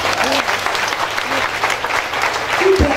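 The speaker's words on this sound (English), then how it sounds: "Clap for Jesus." A church congregation claps together during a mass prayer service, loud and sustained sustained applause from a crowd.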